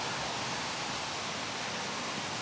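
Water rushes beneath a small footbridge on the Squires Lake Loop hiking trail, a steady, close hiss of flowing stream with no pauses and no other sounds above it.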